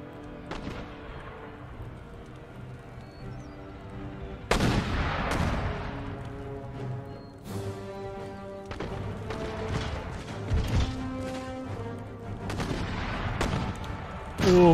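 Musket volleys from line infantry crackle in Empire Total War, with repeated sharp bursts of massed gunfire and scattered single shots over a dense battle din, some volleys loud and close.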